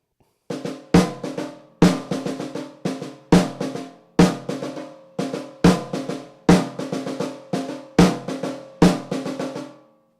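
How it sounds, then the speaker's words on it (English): A drum kit plays a steady, even snare drum pattern: sharp hits spaced roughly every second, each with a ringing tail, played alone with no voices. "The snare drum pattern"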